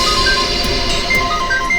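A phone rings from somewhere outside, its electronic tones repeating in short, high beeps over a dense, clattering background of music and noise.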